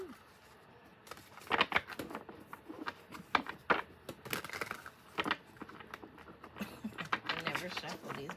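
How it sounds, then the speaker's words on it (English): A deck of tarot cards being shuffled by hand: quiet, irregular soft slaps and riffles spread through the clip, close by. "I never shuffle these babies the right way."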